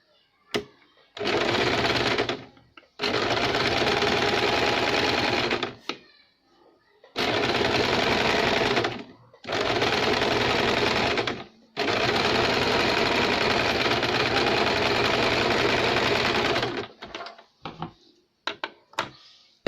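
A sewing machine runs a finishing top-stitch along a double katori blouse in several long bursts with short pauses between, loud and close, the motor and needle hammering steadily; brief handling noises trail off at the end.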